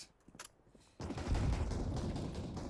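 Rapid gunfire bursts in a Counter-Strike: Global Offensive competitive match. The gunfire comes in dense, loud volleys that suddenly take over after a quieter opening with faint clicks.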